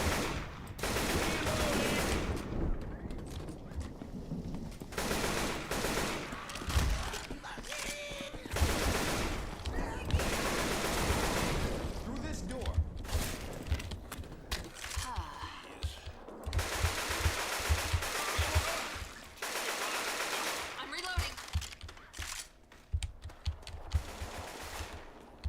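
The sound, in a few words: AK rifle gunfire in video game Left 4 Dead 2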